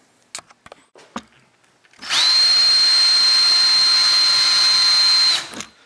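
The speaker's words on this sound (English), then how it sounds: "we're going to drill these out" A power drill whirs steadily for about three seconds at a high, constant pitch, drilling out 3D-printed plastic quadcopter motor mounts, preceded by a few sharp clicks and taps.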